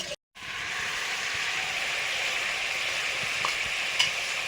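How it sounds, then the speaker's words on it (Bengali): Boiled chickpea dal poured into hot fried spices sets off a loud, steady sizzle that holds for several seconds after a brief silent gap, with a few small clinks. "ছোলার ডালটা সেদ্ধ হয়ে গেছে, এবারে মশলাতে ঢেলে দেবো।"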